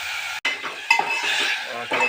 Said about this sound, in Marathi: थोडंसं हलवून घ्या त्याला